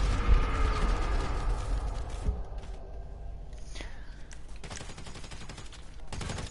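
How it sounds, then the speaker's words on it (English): Rapid gunfire in GTA with carbines, a dense loud fusillade of shots in the opening seconds, followed by sparser bursts, mechanical clatter and a renewed volley near the end. "Fast shooting."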